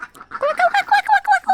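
A duck out on a walk with people gives a quick series of about eight loud, nasal quacks close by, evenly spaced with no talk over them.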